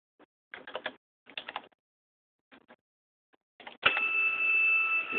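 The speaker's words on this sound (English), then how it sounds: "I can start a motor." Several short mechanical clicks and rattles from a visual inspection system are followed by its motor starting abruptly into a steady, whining hum as the mechanism moves, close and clear.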